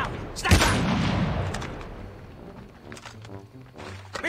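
A sniper rifle shot in the mobile shooter Call of Duty Mobile cracks out loudly near the start, followed by lingering low rumble and scattered in-game sounds, with some faint background talk.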